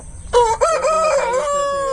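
A single loud rooster crow close by, a long harmonic cock-a-doodle-doo after a short quiet start, from a young cockerel on a farm.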